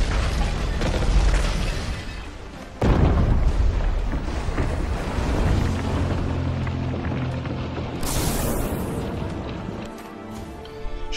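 A ship in the naval game Abandon Ship destroyed by a string of heavy booming explosions, loud and close, with a rolling rumble and crackling debris between blasts and a final burst near the end.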